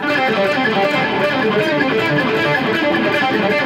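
Distorted electric guitar lick played without palm muting, notes ringing out openly in a quick continuous run, sustained and loud, with no voices.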